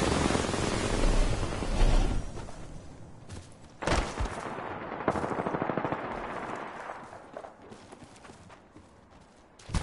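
Loud bursts of automatic gunfire in a PS4 shooter game, with rapid machine-gun volleys, sharp single shots and short pauses between bursts, close and prominent.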